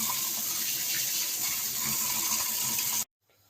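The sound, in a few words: pouring cold water over boiled pasta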